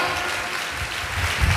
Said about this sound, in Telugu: చప్పట్లు కొట్టండి కొంచెం గట్టిగా.